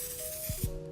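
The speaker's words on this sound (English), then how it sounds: "I'm just gonna spray this one with a little bit of grease spray" Grease spray hisses from a can onto a baking tray, a short close burst of airy spray that fades out, followed by two soft low knocks.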